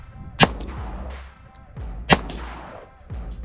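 Two loud pistol shots from a gun fitted with a Radian Ramjet compensator ring out about 1.7 seconds apart at an outdoor range, each a sharp crack followed by a rolling echo.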